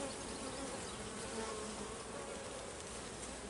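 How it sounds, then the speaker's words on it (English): A honeybee colony hums steadily, with dense, faint buzzing from many flying bees close by and no voices. "the flying bees are bringing so much pollen in"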